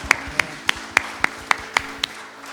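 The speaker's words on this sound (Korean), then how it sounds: "우리 주님께 감사와 영광의 박수 올려드리겠습니다." A congregation at a church anniversary thanksgiving service claps in a slow, even rhythm, about eight distinct sharp claps spaced roughly a quarter second apart over a low background hum.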